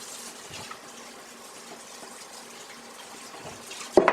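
A kitchen tap runs over a pound of cooked rigatoni to rinse it, a soft, steady stream of water for several seconds, ending with a brief louder clatter.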